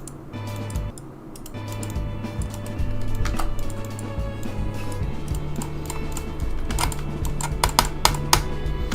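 A computer keyboard and mouse clatter close up in irregular clusters of taps and clicks, growing busier toward the end, over a steady low electrical hum.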